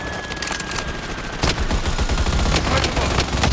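Rapid sustained minigun fire in a video game, a loud continuous rattle of gunshots that intensifies partway through, with a voice faintly present underneath.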